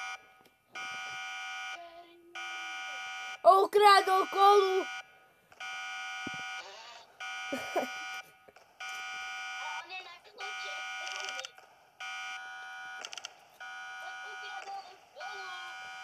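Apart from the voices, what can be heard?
alarm beeping in Roblox video game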